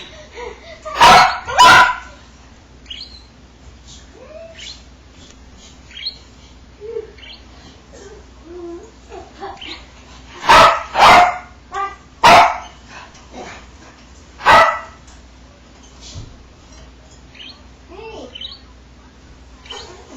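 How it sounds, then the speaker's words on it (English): A dog barks a few times from the background, sharp and separate, in a home with chirping budgies. There is no talking. "If you hear background noises, it's my dog"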